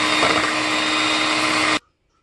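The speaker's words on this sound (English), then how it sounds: "So I'm going to plug in my handheld blender. I'm going to get this mixed all up." A handheld electric blender whirs loudly and steadily while mixing wet ingredients for unleavened bread, then cuts off abruptly after under two seconds, leaving near silence.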